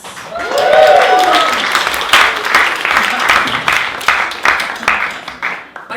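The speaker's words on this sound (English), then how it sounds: "Oohs and claps for Bill Thomas." An audience at a poetry slam answers the introduction of slammer Bill Thomas with a rising "ooh" followed by loud, sustained clapping that gradually thins out and fades.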